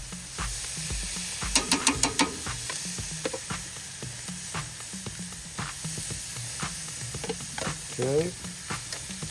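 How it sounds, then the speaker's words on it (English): Steady sizzling of chicken thighs and salmon frying in a pan, with a few brief clatters and a short spoken word near the start. "So we're flipping our chicken. I can hear that salmon sizzling."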